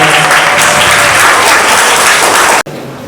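A crowd applauds loudly and continuously at a school opening-day ceremony, then the clapping cuts off abruptly near the end.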